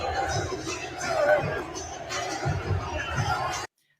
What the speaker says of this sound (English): they are cheering for the other person, not you, Nadu